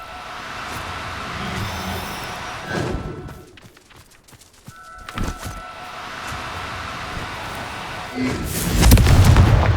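Confringo blasting spell going off in the video game Hogwarts Legacy: loud booming explosions that burst out in separate bursts over rumbling background noise, the final blast the heaviest and most sustained.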